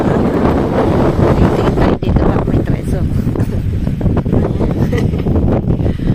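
Gusty wind roars at the shore in Leucate, France on a cold day out fishing, a steady broadband rush buffeting the microphone throughout while a person talks over it.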